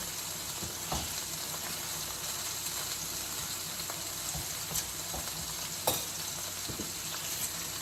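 Butter melts in a pan over medium heat with a faint, steady sizzle and crackle, broken by a few sharp pops and light ticks close by.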